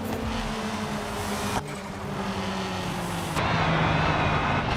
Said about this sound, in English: Or is the turbo just eating all the engine sound?